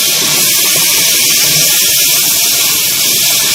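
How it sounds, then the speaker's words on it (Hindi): Garlic and ginger fry in a hot pan for an Indian white egg korma, giving a loud, steady sizzling hiss that runs unbroken and close throughout. "देखिए यहाँ लहसुन अदरक डाल के इसको अच्छी से तरह भूनना है"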